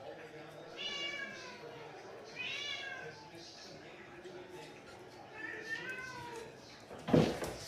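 A cat meows three times in drawn-out, rising and falling calls spaced a few seconds apart, moderately close, ending with a sharp burst of noise.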